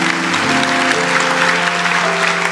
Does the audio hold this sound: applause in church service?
yes